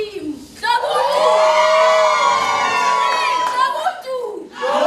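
A children's musical audience at an Africa-themed show screams and cheers in one loud, sustained burst of whoops and shouts that swells and then fades after a few seconds.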